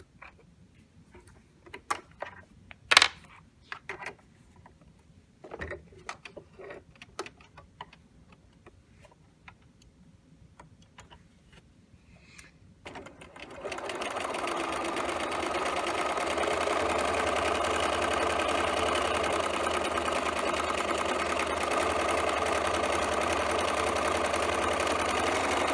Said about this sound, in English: we will do the overlock stitch on it like we did for the other pieces